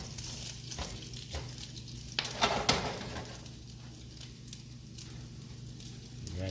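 Bacon fries in a pan with a continuous crackling sizzle, mostly even and moderately loud, with a brief flare of sharper spitting pops midway.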